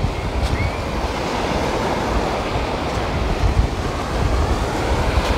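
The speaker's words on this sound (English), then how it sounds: "It's a wonderful beach." Waves washing onto a busy family beach with shells along the shore, a continuous loud rush of surf mixed with wind buffeting the microphone, steady throughout with no voices.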